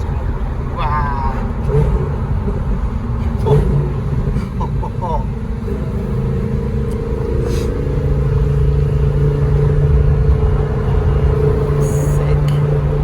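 A Lamborghini Huracan Performante sports car cruises with a steady engine drone and low rumble that rises slightly toward the end, while people talk inside over the sound.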